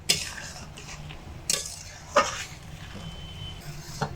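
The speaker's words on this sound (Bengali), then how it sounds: "এর মধ্যে চিনি দিয়ে আরো 5 মিনিট ফুটিয়ে নেব। একটু নেড়ে চেড়ে দেব।" Spoon stirring milk and sugar as it boils in a pan: a handful of sharp metallic clinks and scrapes spaced a second or so apart over a quiet, low background hum.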